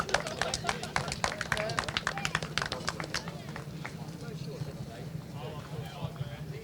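An audience at a British Kart Championships podium ceremony for the Mini X30 final claps in a brisk burst of many hands, dying away into crowd murmur with an announcer speaking over it.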